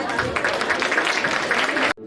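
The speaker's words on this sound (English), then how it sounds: "Let's welcome class 2 with a big round of applause." School audience at a Mother's Day celebration claps steadily and fairly loudly, with faint chatter mixed in, before the applause cuts off abruptly near the end.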